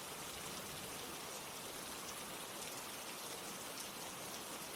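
Steady rain pours down in an even, dense hiss with no pauses, constant and fairly loud from start to finish.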